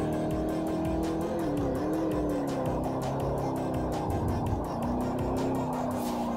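A Ford Thunderbird in Forza 4 revs hard with rising and falling engine pitch as it shifts gears, with tire squeal over the loud, continuous race engine.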